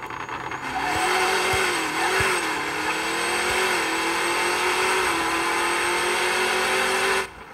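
A Boss Mustang revs through a no-prep drag run in a racing video game, a loud engine note climbing and wavering steadily for about seven seconds, then cutting off abruptly, with no talk.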